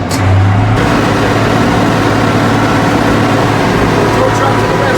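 A tow truck engine revs loudly and steadily up close while a tractor, a downed John Deere 6600 during harvest, waits to be hooked up outdoors; a low heavy drone runs throughout.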